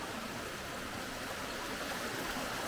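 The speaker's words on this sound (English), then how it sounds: "you can see a wee little waterfall in there." A small waterfall in a forest gives a faint, continuous rushing hiss of falling water, steady and distant, with no voices.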